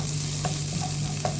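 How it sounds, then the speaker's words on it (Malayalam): Small shallots and garlic sizzle in hot oil in a Kerala home kitchen, a steady close crackling hiss with a few faint clinks and no voices, lasting a second and a half. "ഇനി ചെറിയ ഉള്ളി, വെളുത്തുള്ളി ഇട്ട് മൂപ്പിക്കാം."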